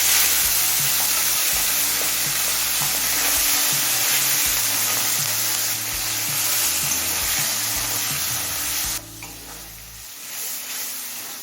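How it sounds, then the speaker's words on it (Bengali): Fish oil sizzling in a pan with fried nigella seeds and slit green chillies, a loud, continuous close frying hiss with stirring scrapes underneath that eases slightly near the end. "এবার মাছের তেলটা দিয়ে দিচ্ছি।"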